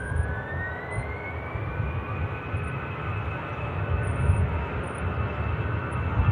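A jet airliner departing Manchester Airport roars steadily and loud throughout, a broad engine rumble with a rising whine, no voices.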